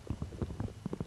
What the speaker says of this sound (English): I literally hear farts.